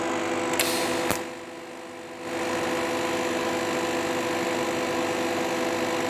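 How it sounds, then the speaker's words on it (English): TIG plug welding at about 60 amps with a gas lens makes a steady electric buzz and hum with a brief click near the start. It dips for about a second, then the hum resumes and holds steady, close, with no talking. "So what I'm going to do is I'll just do 5 plug welds here."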